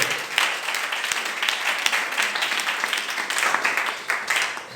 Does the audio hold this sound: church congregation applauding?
yes